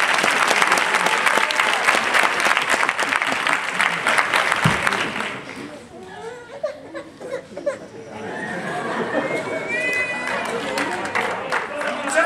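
An audience at a 2014 carnival chirigota performance in Villanueva del Arzobispo, Jaén, bursts into loud, dense applause that fades after several seconds into crowd chatter and scattered laughter.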